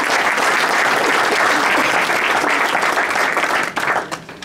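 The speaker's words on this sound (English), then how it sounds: "We can get a round of applause" An audience at a park district volunteer and patron reception gives a round of applause, loud and dense clapping that holds steady and then thins out and fades near the end.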